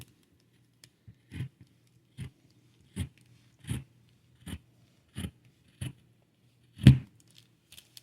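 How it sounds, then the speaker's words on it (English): Scissors snip through fabric while cutting out the circle piece of a bowl cozy pattern, giving about nine sharp, evenly spaced cuts at close range with quiet pauses between them. "This is the circle part that we're cutting here."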